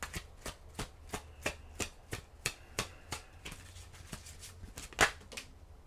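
Oracle cards shuffled by hand in a quiet room, a run of about fifteen crisp, sharp riffling slaps at a steady, fairly quick rhythm, close and clear with no talk.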